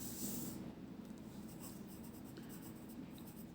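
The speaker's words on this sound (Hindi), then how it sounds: "तो मैं सेकंड स्टेटमेंट का आंसर लिख दूंगा" Pen scratching on paper while an answer is written out by hand, a faint close-up run of soft strokes and scribbles continuing steadily for a few seconds.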